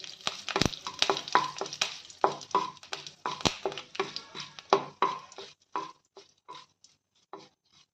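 Cumin, mustard seeds, curry leaves and dry chillies frying in oil for a ridge gourd chutney, with sharp popping and sizzling crackles in quick, irregular bursts that thin out toward the end.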